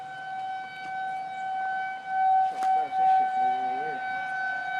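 Civil defense tornado sirens wailing across Omaha during a line of storms, a steady distant tone holding under the whole stretch while people talk nearby.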